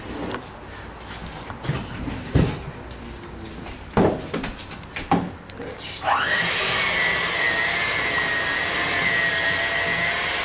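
Cookie dough is mixed, first with a few irregular knocks and clattering bursts, then with a loud, steady motorized whir that starts partway through and runs evenly to the end.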